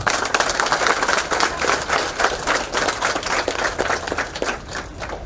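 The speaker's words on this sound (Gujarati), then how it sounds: "એક વખત તમારા સૌ માટે આપણે તાળીઓથી વધારીએ" Dense, continuous applause from a large crowd of Anjar townspeople gathered after a silent protest march, holding steady and loud for several seconds with no speech over it.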